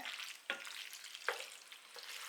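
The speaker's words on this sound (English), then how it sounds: "I'm going to add a little bit of liquid in here, just to loosen that gravy up a little bit" Gravy sizzling and frying in a pan as liquid goes in, a steady crackle broken by a few sharp hissing bursts.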